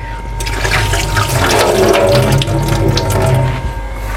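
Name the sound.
rinsing and washing food under running water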